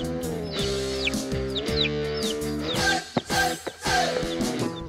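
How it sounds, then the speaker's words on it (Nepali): A local village rooster crows and clucks repeatedly in a rural mountain valley, close and fairly loud, with several calls in succession. "लोकल भाले पनि राख्यो"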